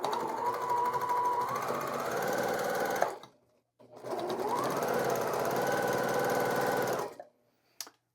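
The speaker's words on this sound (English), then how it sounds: "I'm going to begin chain piecing going down one side of all of these" A sewing machine runs steadily while chain piecing scrap quilt half-square triangles, producing two long, loud, close stitching runs separated by a brief pause, with a small click near the end and no talk.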